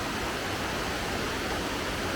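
Steady, full roar of a steep waterfall on a hiking trail at Sid's Falls, a dense continuous rush of falling water heard close and loud with no breaks.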